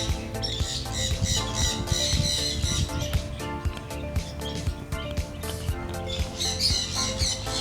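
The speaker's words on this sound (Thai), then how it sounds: "อันนี้ฟินช์เหมือนกัน แต่ว่าชื่อซีบ้าฟินช์ค่ะ" Busy chorus of small zebra finch calls, rapid nasal beeps and chirps overlapping continuously, fairly close and lively.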